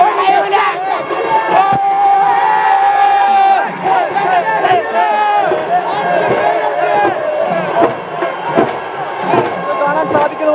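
Football fans at a Kerala Super League match cheer and shout after a Thiruvananthapuram Kombans FC win, a loud dense crowd roar with chants and claps throughout.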